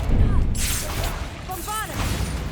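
A Confringo fire spell in Hogwarts Legacy goes off with a sharp swoosh and a heavy burst, the impact ringing out briefly before shimmering magical tones fade away.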